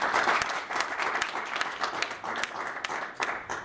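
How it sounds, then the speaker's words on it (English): An audience at a youth organisation's office kick-off event applauds, a brisk mass of clapping with a few sharper individual claps standing out, fairly close and sustained throughout. "So let's give Felix a round of applause."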